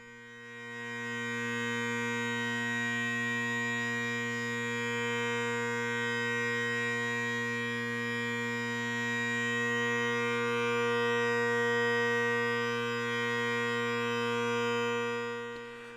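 A steady, sustained bagpipe drone chord from bass and tenor drones, rich and buzzy, swelling in after a moment and holding without a melody until it cuts off.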